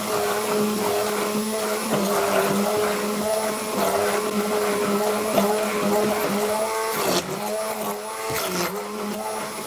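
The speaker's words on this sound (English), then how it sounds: "just continue with the blending of the carrot and the parsnip" A kitchen blender purees carrot and parsnip with a loud, continuous whirring motor drone, its pitch shifting and dipping briefly near the end as the load changes.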